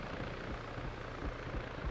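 A helicopter in Arma 3 flies off, a dense, steady rotor rumble with a low throbbing beat, moderately loud and unbroken for a couple of seconds.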